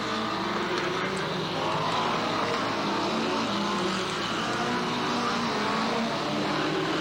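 Race cars in a heat race at a speedway, a continuous loud roar of several engines holding steady throughout with no pauses and no talk.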